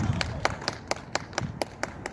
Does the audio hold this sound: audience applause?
yes